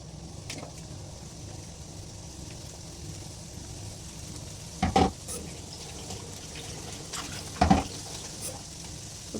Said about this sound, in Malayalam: എണ്ണ നന്നായിട്ട് ചൂടായതിന് ശേഷം നമുക്ക് കട്ട് ചെയ്ത പാവയ്ക്കൊന്ന് ആഡ് ചെയ്ത് കൊടുക്കാം.